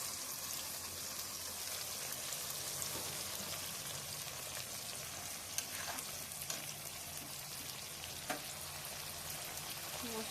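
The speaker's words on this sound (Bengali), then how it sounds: "মশলাটা এবার ভালো করে কষাতে থাকবো" A ground paste of chili, ginger, garlic and tomato sautés with fried onion for chicken curry, giving a soft, steady sizzle with a few faint clicks of stirring, quiet and close.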